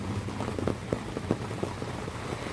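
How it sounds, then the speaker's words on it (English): Steady patter of rain on a taut inflatable tent, with scattered heavier drops tapping irregularly against a soft continuous hiss. "Rain's coming down"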